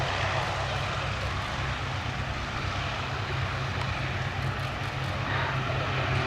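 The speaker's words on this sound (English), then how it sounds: "we've got the two Lysanders getting off." Two Westland Lysander aircraft taking off at the Duxford Battle of Britain Airshow 2023 give a steady, loud piston-engine drone with a constant low rumble that holds for the whole stretch, with no voices.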